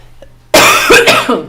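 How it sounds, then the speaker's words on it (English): A single harsh, close cough bursts out after a brief quiet moment in the video game Vampire: The Masquerade – Out For Blood, rough and throaty, trailing off with a rasp. "There comes the coughing."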